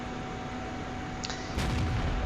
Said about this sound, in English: our artillery nails their IS-2